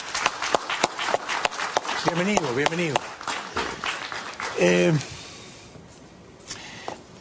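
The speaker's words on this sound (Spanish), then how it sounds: "Un aplauso para Enrique Salas Romer, por favor." A television studio audience gives sharp, scattered claps for a guest arriving on a talk show, loud in the opening seconds, while a host speaks a greeting and the clapping fades out.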